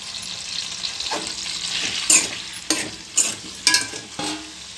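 Chili powder roasting in a pan with a plate held over it for egg kurma: a steady fry hiss with several sharp sizzling bursts and stirring scrapes, close and fairly loud, with no talking.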